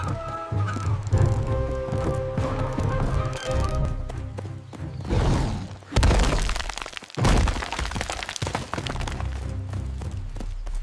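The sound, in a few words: old wooden bridge shattering under a wolf's weight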